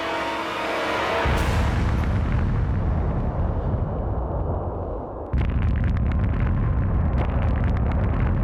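Underwater nuclear bomb blast at Bikini Atoll, from a bomb hung 90 feet below the surface beneath a landing craft: a sudden loud burst into a long roaring rumble that fades, then a second sharp surge of crackling roar.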